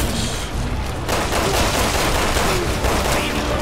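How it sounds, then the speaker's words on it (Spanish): Dense, continuous gunfire from the Resident Evil 6 video game, Chris campaign chapter 3, with sustained rapid shots and booms forming a loud wall of fusillade throughout, with no talk. "Le estoy disparando tiros, tío, como si no sintiera nada, colega."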